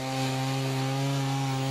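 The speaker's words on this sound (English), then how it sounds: "Some locals took desperate measures to try to free their boats, but even a chainsaw is pretty useless in these conditions" A chainsaw runs steadily, loud and close, cutting into ice on a frozen stretch of the River Danube to free stranded boats, its engine holding a constant droning whine for the whole stretch with no pauses.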